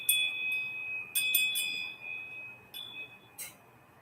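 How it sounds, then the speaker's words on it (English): A small bell rung to open a live tarot reading gives a clear, sustained ringing tone with several fresh strikes layered over it, close and alone with no talking. "So I'm going to ring the bell here."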